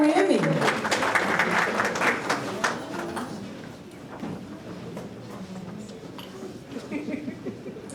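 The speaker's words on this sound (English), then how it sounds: "Let's give them a round of applause." Audience applause for a graduating group at a program completion celebration, a burst of clapping in the first few seconds that thins out, mixed with talking and crowd murmur throughout.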